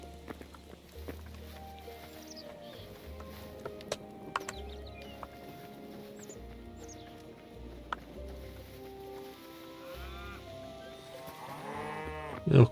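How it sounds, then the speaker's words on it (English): Cows in the video game Hytale moo several times at a moderate distance over a quiet ambient game soundtrack with soft tones, with a louder burst near the end. "Little cow family."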